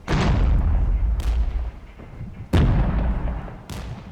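Heavy weapons fire in the Regiments PC war game: four loud booming reports, each with a long rumbling tail, spaced about a second apart.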